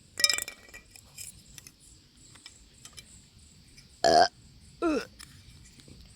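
Two loud, close burps stand out after a quiet stretch, a longer one followed by a shorter croaking one about a second later, with faint clinks and light handling noise before them.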